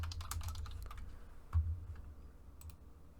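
Keys clatter on a computer keyboard while a graph event is entered in Unreal Engine 5, a quick flurry of soft clicks followed by a single louder tap and a few faint keystrokes, close and quiet.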